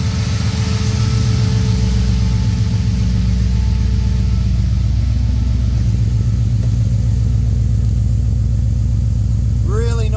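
A Holden Brock VK V8 fitted with a Quadrajet carburettor idles steadily up close, its deep, even exhaust rumble running smoothly throughout with a slight lift near the end.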